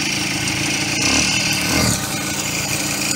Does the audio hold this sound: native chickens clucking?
no